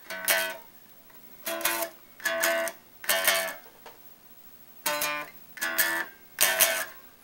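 Guitar playing a song's intro riff at a quicker tempo, in repeated bursts of picked notes separated by brief pauses, close and clear with no voice.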